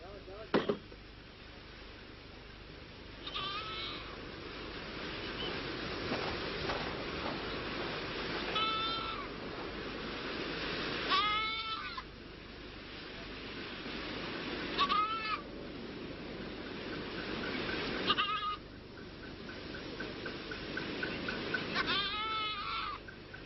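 A goat tethered as bait for a lioness in Gir National Park, India, bleats repeatedly at intervals over steady outdoor background noise, with a narrator's voice at times.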